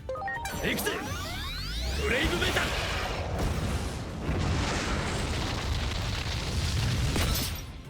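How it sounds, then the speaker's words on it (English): A loud, sustained burst of impacts and crashing energy from Dorugoramon's Brave Metal charge attack in Digimon Story: Time Stranger, with swooping tones at the start and a continuous roaring blast over the full length. "Doru Goramon uses its special move Brave Metal to unleash a dreadful charge with all the power of body and soul."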